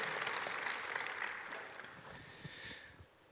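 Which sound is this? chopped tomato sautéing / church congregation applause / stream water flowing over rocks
church congregation applause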